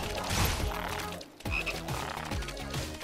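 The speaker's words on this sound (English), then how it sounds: "Wait, there's more frogs here." Frogs croak in the video game Final Fantasy VII Rebirth, a loud, rapid string of layered croaks with a brief break partway through and game effects behind them.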